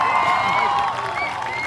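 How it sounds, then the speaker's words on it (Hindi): A large crowd at a welcome event for poet Manoj Muntashir in Sultanpur claps and cheers loudly, a dense, steady roar of applause filling the space and easing off slightly toward the end. "एक बार खड़े होकर दोनों हाथ उठाकर जोरदार तालियों से स्वागत करिए अपने बेटे का।"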